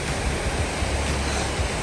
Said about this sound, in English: you soak under this little hot spring waterfall